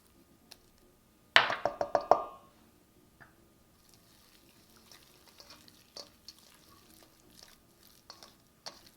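Garlic hits a hot pot with an Angus beef pot roast, a sharp burst of sizzling for about a second, then quiet frying with occasional soft stirring clicks and scrapes.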